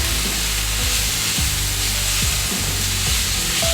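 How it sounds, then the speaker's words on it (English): Chopped onions sizzle steadily in a hot pan for cheesesteak sliders, with a continuous close frying hiss and a few soft scraping strokes as they are stirred around. "Move these onions around a little bit here."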